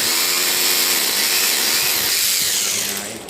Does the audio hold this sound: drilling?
yes